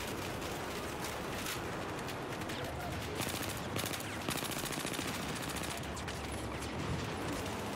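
Rapid automatic gunfire from Battlefield 4 on the Operation Locker map, dense bursts of shots crackling continuously at moderate distance with no talk over it.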